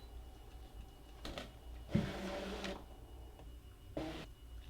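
A Brother ScanNCut cutting machine works through fabric laid on its cutting mat, giving short mechanical whirring bursts and carriage movements at close range in a quiet room, with no talking.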